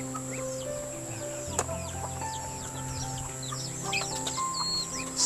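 Several backyard chickens kept by an elderly man on a mountainside, clucking and chirping in scattered, overlapping calls at moderate distance, with other birds tweeting among them in steady outdoor ambience.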